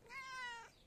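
A cat gives a single short meow, close and fairly quiet, lasting under a second with no talk over it.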